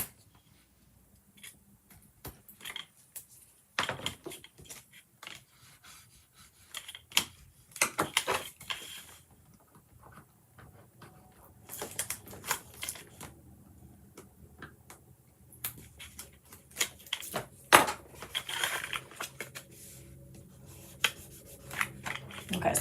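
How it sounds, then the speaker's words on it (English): Tear tape being pressed and rubbed along the edge of a paper pocket for a handmade gift card holder, quiet scattered crinkles, taps and rubbing strokes in irregular bursts, close and faint. "just using tear tape right along the edge"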